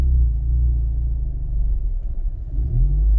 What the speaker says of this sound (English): see how the car almost died?